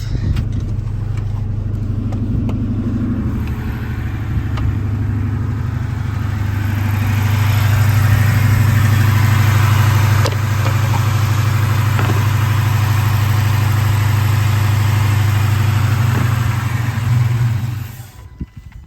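A 2011 Dodge Charger idling while it cannot be shut off because of a transmission control fault that reads it as not in park: a loud, steady low engine drone that cuts off near the end.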